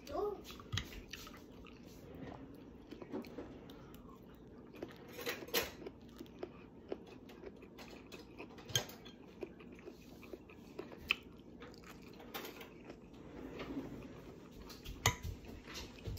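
Crunchy food being bitten and chewed close up, a string of small sharp crunches and squishy bites with light clinks of dishes or cutlery, and a few quiet voices now and then.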